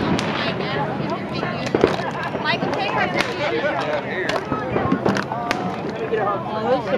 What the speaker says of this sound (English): Oh, this is some hard fireworks.